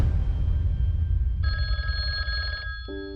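A telephone bell sound effect rings in a short trilling burst over a low rumbling background, then a second brief ring begins just before the end.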